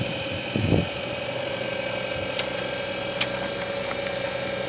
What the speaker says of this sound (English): we can see the motor is running at some speed